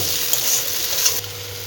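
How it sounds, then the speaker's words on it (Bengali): Semolina stirred into lightly fried vegetables in a pan, a soft steady scraping and stirring over a faint sizzle, close and continuous with no talk. "এবার আমি এর মধ্যে সুজিটা দিয়ে দেব"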